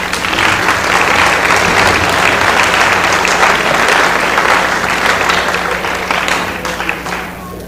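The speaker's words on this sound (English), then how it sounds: "Can we get a round of applause?" A banquet audience breaks into dense, sustained applause, many hands clapping loudly together before the sound thins and fades near the end.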